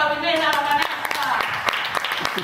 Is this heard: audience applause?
yes